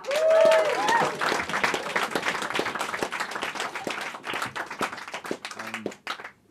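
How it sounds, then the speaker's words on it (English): Audience applause at a live poetry and spoken-word evening as the first featured act takes the stage, loud close clapping that starts with a brief voice and feedback-like tone, then thins out toward the end. "give a big, big, fat, utter round of applause for our first featured act of the evening"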